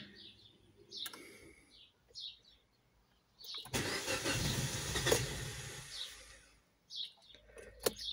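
Korean Kia car engine cranking repeatedly and failing to start, with one long grinding crank attempt between shorter bursts, and birds chirping faintly outdoors near a harbour.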